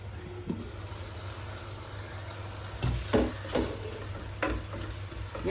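Large-cut tomatoes sizzle in a pan on the stove, a soft steady frying hiss broken by several scraping stirs in the second half.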